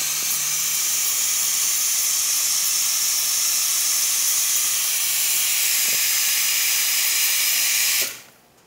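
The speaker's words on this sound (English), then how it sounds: "Nice strong steam." Espresso machine steam wand releasing a strong, steady, loud hiss of steam that runs unbroken for about eight seconds before cutting off abruptly, with no talking over it.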